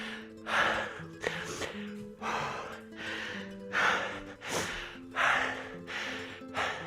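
Heavy, rhythmic panting after a squat workout in a gym class, deep breaths in and out repeating about every second, close and fairly loud with no talk.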